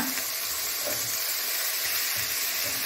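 Chopped tomatoes and coriander stems frying with softened onions in a pan for paneer masala, giving a steady, close sizzle and hiss with faint stirring and no talk.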